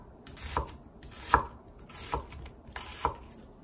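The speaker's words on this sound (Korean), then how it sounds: "오징어구이에 들어갈 양파를 썰어 보겠습니다" A knife chops through an onion on a cutting board while preparing grilled squid, with four separate, fairly soft cuts spaced about a second apart and no talking.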